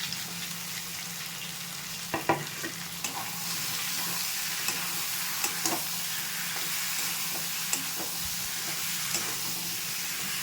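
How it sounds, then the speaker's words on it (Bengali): Taro and potatoes tumbling into a pan of frying spice masala, a steady loud sizzle and hiss with scattered clicks and scrapes of stirring throughout. "মশলাটা কষানো হয়ে গেছে, এবার কচু আর আলু দুটোই দিয়ে দিচ্ছি।"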